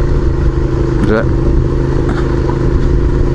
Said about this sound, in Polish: No tutaj jest silnik w układzie V